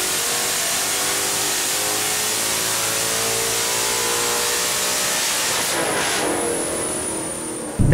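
A Ford Mustang Coyote V8 with a stock 2015–2017 GT intake manifold roars at high revs in a long sustained dyno pull, tone climbing steadily before cutting off abruptly near the end.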